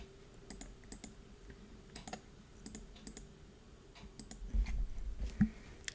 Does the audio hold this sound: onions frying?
no